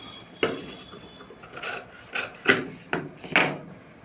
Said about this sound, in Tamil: இப்போ இங்கே ஒரு கிராஸ் வெட்ட போகிறேன்.